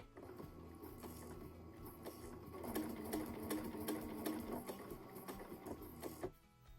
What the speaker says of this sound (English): I'm just gently kind of pushing it into the machine as it's stitching.